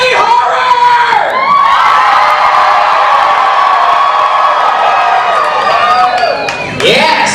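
A loud concert crowd screams and cheers continuously, shrill whoops and yells blending into a sustained roar that dips briefly near the end.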